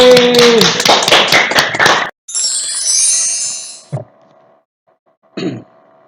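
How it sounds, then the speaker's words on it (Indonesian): Schoolchildren in a classroom clap together in a quick, rhythmic burst of about two seconds, loud and close, then fall quiet, leaving a few scattered knocks and soft room noise. "tepuk tangan lagi"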